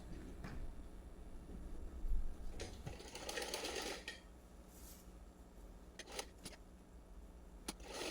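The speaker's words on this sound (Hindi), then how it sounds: "3 साइड से अपनी पट्टी के 3 साइड से हम सिलाई लगा लेंगे, फोल्ड कर लेंगे किनारी को" A sewing machine stitches the folded edge of a cotton strip for a small frock. It runs in short bursts of rapid, close mechanical whirring and clatter, with quieter gaps and a few clicks between runs.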